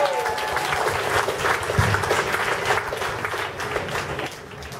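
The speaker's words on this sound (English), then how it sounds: "give another round of applause" Applause from an audience at a youth group's sketch promoting a fundraiser car wash and boot sale, with dense clapping sustained throughout and a brief voice near the start.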